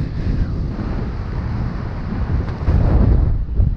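Loud, blustery wind buffets the microphone outdoors in wild weather, a deep rumbling roar that swells in gusts and strengthens toward the end, with no voices.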